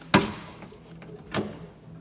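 Two solid thuds from the door of a VC Valiant being shut, one sharp and close near the start and a second softer one about a second later, in a quiet setting.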